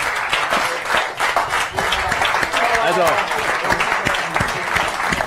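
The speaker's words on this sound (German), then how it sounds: "Nochmal einen Applaus für den Dealer." An audience at a poker final table gives sustained applause for the dealer, dense clapping throughout at steady volume, with a voice talking over it.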